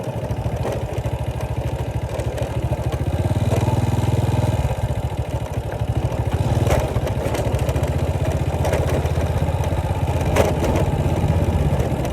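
A motorcycle rides along rural roads in Xaisomboun, Laos. Its engine drones loud and close throughout, with a few swells in revs and rattly clatter, and nobody speaks.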